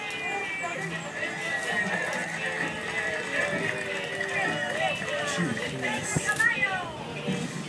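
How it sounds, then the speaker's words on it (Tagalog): Horse hooves clip-clop in an uneven run alongside a neigh, heard at moderate level beneath talking voices and background noise. "Petra Kabayo"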